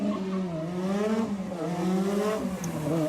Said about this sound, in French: Avec leur bruit caractéristique, les R5 Turbo régalent les mélomanes.